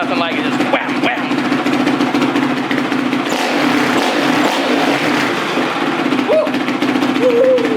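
Carbureted four-stroke dirt bike engine running loud and close at high revs, a steady dense roar with a strong low firing hum and a few rising blips of throttle, continuous throughout.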